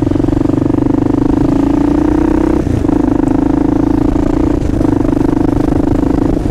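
Kawasaki KLR650 motorcycle ridden through New York City, a steady loud single-cylinder engine drone with a brief dip in revs partway through and a clattery mechanical undertone throughout.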